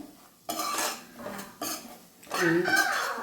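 Peanuts being stirred in a pan over a low gas flame, with a spoon scraping and clinking against the metal in short repeated bursts, close and fairly loud, with a few quieter pauses between strokes.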